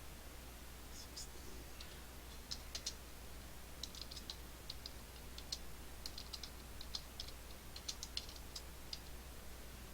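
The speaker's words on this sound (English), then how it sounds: "We're going to type in an address" Soft, quick clicks tap across a computer keyboard in irregular bursts as an address is entered, faint and close against a steady low hum, with no voices.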